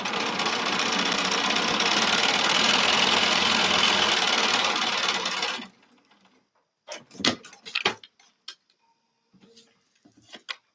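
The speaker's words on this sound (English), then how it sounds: "So just a sec while I am sewing over here." A sewing machine runs stitching a seam in a steady loud whirring buzz for several seconds, then stops, followed by sharp clicks and handling knocks of fabric and machine parts.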